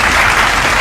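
An audience at a pool tournament applauding, a dense, loud, continuous burst of clapping from a close crowd, brief and steady throughout.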